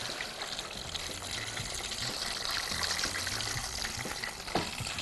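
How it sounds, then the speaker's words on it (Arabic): Hot water poured from a container into a casserole pot in a kitchen, a steady close gushing and splashing stream lasting several seconds, with no talk over it. "جايب عندي ميه سخنه، احطها هنا في الكزرولة الجميله ديت"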